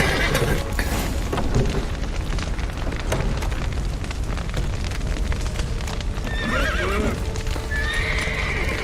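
Horses whinny and neigh loudly over a steady clatter of hooves in The Witcher 3: Wild Hunt video game, with rumbling background commotion throughout.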